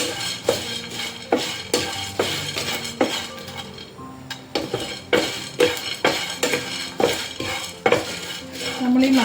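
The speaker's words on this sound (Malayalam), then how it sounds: "ഇതെല്ലാം കൂടെ ഒന്ന് നല്ല പോലൊന്ന് ചൂടാക്കിയെടുക്കാം" Whole spices including black pepper are dry roasted in a pan: a utensil scrapes and taps rhythmically while the spices rattle and faintly sizzle, close and steady with repeated sharp clinks.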